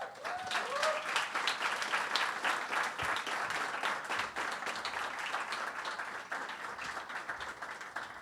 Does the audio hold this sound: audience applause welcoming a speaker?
yes